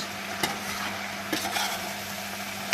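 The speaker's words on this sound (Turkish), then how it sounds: "Yavaş yavaş karıştırıyorum dağıtmadan baklalarımı" Fresh fava beans being stirred slowly in a pot, giving a steady soft sizzle with a few brief scraping knocks of the spoon. No voices.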